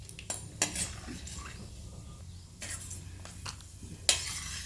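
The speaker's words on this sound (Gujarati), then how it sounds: "બદામ એડ કરીશું અને એને ફ્રાય કરીને તરત લઈ લઈશું." Almonds frying in ghee as a spoon stirs them in the pan, with sharp metallic scrapes and clinks standing out over a faint sizzle.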